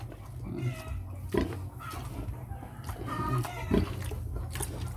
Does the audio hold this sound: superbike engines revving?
no